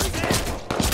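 Gunfire in the Watch Dogs 2 video game, dense and continuous with a couple of stronger shot bursts standing out in a busy, loud mix.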